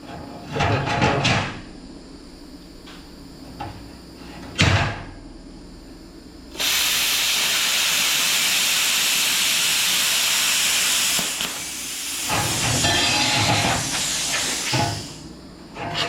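A Bestarc BTC500DP plasma cutter on 110 volts cuts clean 1/8 inch steel with a loud, harsh continuous hiss lasting several seconds, preceded and followed by clanks and handling knocks, with a second shorter burst near the end.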